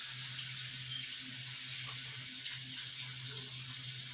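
Tap water runs steadily into a kitchen sink while raw shrimp are rinsed for shrimp fried rice, a continuous close hiss with a low hum beneath and no talking.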